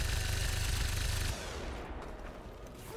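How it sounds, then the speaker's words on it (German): A rapid burst of gunfire in the video game XCOM 2 rattles loudly for about a second, then fades into quieter background noise. "So, der erste Schuss."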